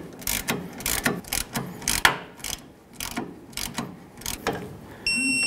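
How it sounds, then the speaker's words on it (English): A ratchet wrench snugs up the outer tie rod clamp bolts on a 1992-2000 Chevy Tahoe, giving close, repeated clicking bursts in an irregular rhythm, with a brief beeping tone near the end. "let's continue on by snugging these up, and then we're going to go ahead and torque them to 14 foot-pounds"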